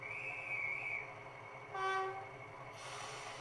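A guard's whistle on a model railway gives a short shrill blast over a steady background hum from the layout, heard alone with no talking.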